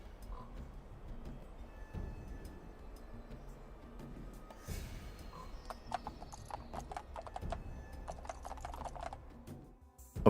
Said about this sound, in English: their feet make the sound of coconut shells being slammed together